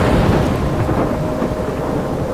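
Thunderstorm in the video game Life Is Strange: a loud, steady roar of heavy rain under rolling, rumbling thunder, continuous throughout with no voices.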